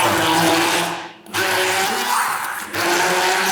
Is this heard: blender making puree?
yes